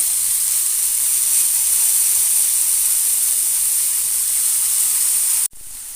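Gima greens hit hot oil with dried chillies and potatoes in a frying pan, giving a loud, constant hissing sizzle that runs unbroken before a sudden dip and quieter continuation.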